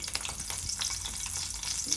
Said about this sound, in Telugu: ఆయిల్ వేడెక్కిన తర్వాత పచ్చిమిర్చి వేసుకోవాలి పచ్చిమిర్చి వేగనివ్వాలండి